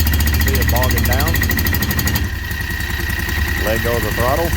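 A Predator 670 engine drops from a loaded, labouring run back to a steady idle partway through, loud and close, with someone talking briefly over it.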